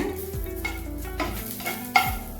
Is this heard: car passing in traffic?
no